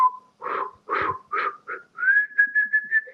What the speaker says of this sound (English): I'm like, "Ooh, I can whistle.